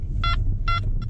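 Makro Multi Kruzer metal detector signal tone in a field, heard as two clear electronic beeps and a shorter third one over steady low rumble.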